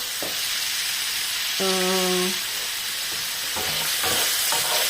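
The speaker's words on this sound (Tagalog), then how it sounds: "nagmadali akong magluto ng sausage lang po tayo" Sausage slices frying in a pan at home, a steady sizzle and hiss running throughout with faint stirring clatter, close and moderately loud, no talking.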